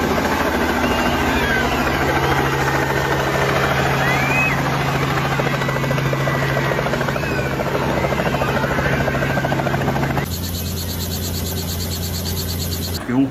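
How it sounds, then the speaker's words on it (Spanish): A helicopter arrives at an outdoor celebration, its loud, steady rotor and engine drone filling the air nearby before the tone shifts abruptly near the end. "Y Adán Perdomo llegó en un helicóptero a una celebración importante"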